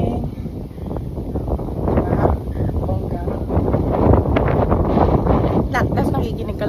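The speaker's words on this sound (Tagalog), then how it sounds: "So windy." Strong morning wind buffets the microphone on an outdoor walk in Sorsogon, a continuous rumbling roar that swells and eases throughout.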